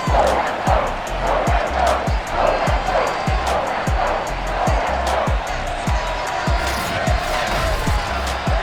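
A sold-out stadium crowd roars in Madden NFL 22 as the Patriots are introduced before facing the Dallas Cowboys: a dense, continuous wash of cheering with steady rhythmic thumps underneath.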